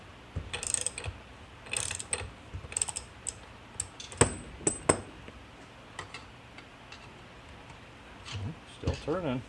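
A ratchet tightens bolts on a 1960 GMC truck, producing bursts of quick clicking pawl strokes separated by pauses, close and moderately loud, with someone speaking in between.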